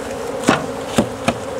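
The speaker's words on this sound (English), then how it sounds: "All those bees out." Honey bees buzz steadily as they are knocked out of a hive box, their drone loud and close, broken by three sharp taps on the box.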